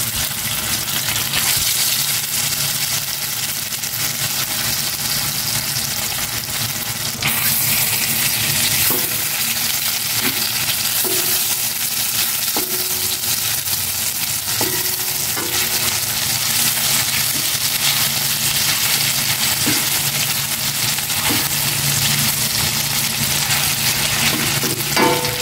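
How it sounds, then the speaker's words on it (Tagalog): Chicken embutido sizzles and crackles steadily in a hot pan, with occasional clinks of a utensil stirring, loud and close throughout. "Prito ko naman itong chicken embutido."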